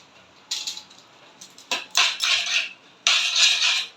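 A spoon scrapes and clatters against a metal pan as Maggi noodles are stirred with seasoning powder, in close, uneven bursts with short pauses between, and no talking.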